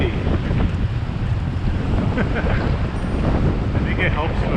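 Heavy wind roars and buffets the microphone steadily while cycling through New York City streets, a loud continuous rush with no pauses.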